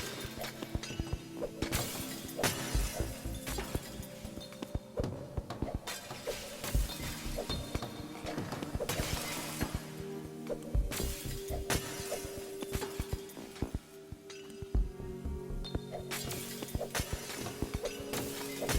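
Glass shatters again and again in the video game Smash Hit, with bursts of crashing and tinkling shards breaking over a steady game soundtrack for nearly twenty seconds, no speech over it.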